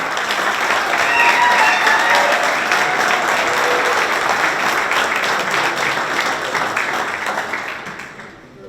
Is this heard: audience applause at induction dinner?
yes